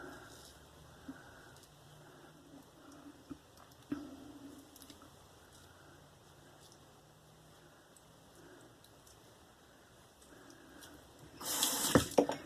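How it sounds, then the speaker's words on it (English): Steady, low hiss of tap water running into a sink with a faulty stopper, with a few faint clicks, then a brief louder splash at the end. "Sorry about the running water, but my stopper won't work."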